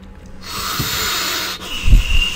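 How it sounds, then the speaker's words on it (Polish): Monster in the horror game Home Sweet Home breathing from behind a door on the right, a long raspy hiss of steady exhalation followed by a lower snorting rumble, close and alone with no talk. "Oddech to ma nieziemski."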